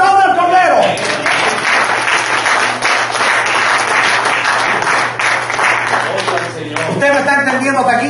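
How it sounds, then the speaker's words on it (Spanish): A church congregation claps together, loud sustained applause that begins after a brief spoken phrase and runs steadily, with voices returning near the end. "Aplauda al Cordero."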